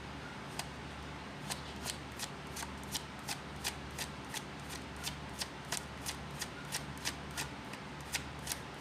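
Bicycle deck playing cards being shuffled, a steady run of crisp riffling snaps repeating roughly every half second, close and fairly quiet over a low background hum, with no talking.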